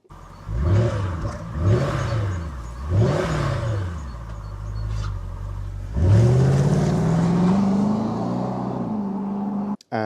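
A Jaguar XK8 V8 exhaust revs repeatedly in rising and falling blips, then holds a long climbing rev before cutting off sharply; loud and close.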